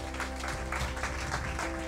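Office staff clap to celebrate a monthly sales record, a close, busy burst of hand claps over a steady hum and background music.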